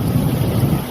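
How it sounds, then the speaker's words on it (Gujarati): Strong wind blows during heavy rain, a loud, dense, continuous roar of gusting air and rain noise battering close to the microphone. "એકદમ પવન"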